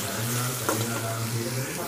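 Onions sizzle in a pan with ginger and garlic while a spicy side dish of sev poriyal is cooked. The frying makes a steady, close hiss under a low hum, with one brief clatter midway.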